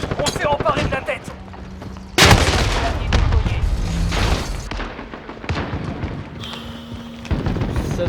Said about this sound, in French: Frappe de précision ennemie, à couvert.